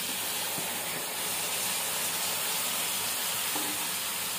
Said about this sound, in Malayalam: 1 കിലോ മട്ടനാണ് ഇതിലേക്ക് ചേർത്ത് കൊടുക്കുന്നത്.